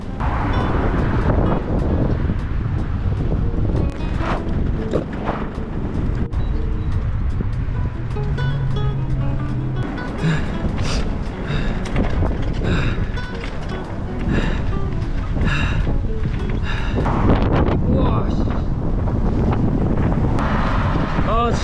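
Strong, steady wind roars over the microphone while cycling outdoors on a road heading out of town, a constant loud buffeting rush with no letup, with passing traffic in the mix.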